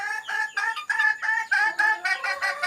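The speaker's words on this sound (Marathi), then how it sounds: "प्युअर गावठी कोंबडी आहेत हे बघा" Free-range country chickens cluck in repeated close, loud bursts, a busy rhythmic chorus of hen calls with short gaps between them and no talking.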